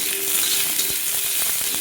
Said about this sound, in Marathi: इथं आपण कांदा टाकून घेतलेला आहे.